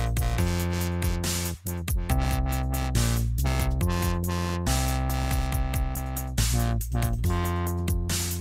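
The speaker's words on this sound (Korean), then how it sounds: "이게 프리퀀시가 바뀌면서 소리가 왕왕왕 하는 소리가 들리는데" Wobble bass synth made in Reason, its low-pass filter frequency sweeping so the dense, loud bass tone rhythmically opens and closes in a steady wah-like pulse, playing alone without talk.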